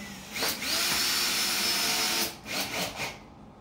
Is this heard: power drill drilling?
yes